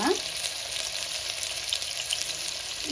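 Cut pieces of Mangalore cucumber sauté in a pressure cooker, giving a steady, close, bright sizzle that holds at an even level without a break.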